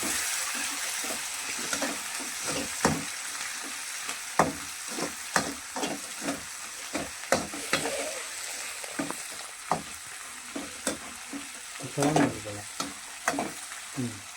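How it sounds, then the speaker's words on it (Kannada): Tomatoes drop into hot tempering oil in a pan for upma, giving a steady loud sizzle broken by a run of sharp stirring clatters and scrapes, with no talking. "ಟೊಮಟೊ ಹಾಕಿದ ತಕ್ಷಣ ಸೌಂಡ್ ಜೋರಾಗುತ್ತೆ"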